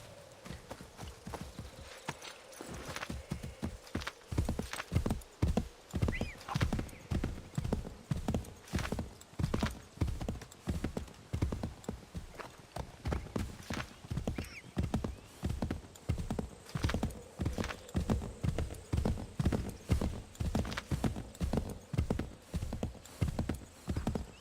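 Horse hooves in Assassin's Creed 3 clip-clop in a steady, close rhythmic trot, loud and continuous for the whole stretch with little else over it.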